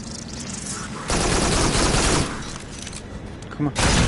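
Gunfire from the video game Farpoint, a dense burst of rapid shots over roughly a second in the middle, with someone talking and shouting around it.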